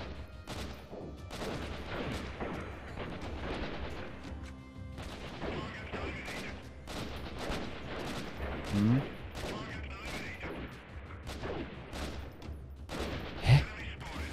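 Bursts of gunfire in the guerrilla warfare shooter Freeman: Guerrilla Warfare, repeated rifle shots and volleys running steadily throughout, with a couple of sharper louder cracks near the end, mixed with game ambience.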